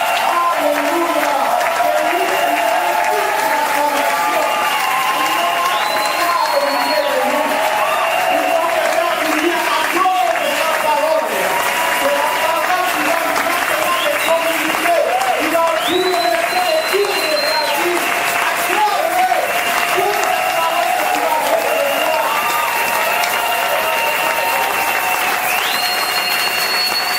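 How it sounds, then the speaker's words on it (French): A church congregation applauds and cheers loudly and continuously, a dense wash of clapping with voices mixed in throughout. "Acclame-lui encore, Seigneur."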